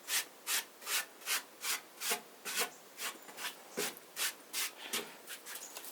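Hand sanding antique timber furniture to a smooth finish, about a dozen rhythmic rasping strokes back and forth, close and steady, with no talking.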